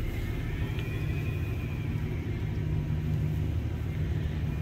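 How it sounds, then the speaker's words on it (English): A car passes behind on a residential street, a steady low rumble that holds close and fairly loud for several seconds, with no one talking over it. "Got a car behind me."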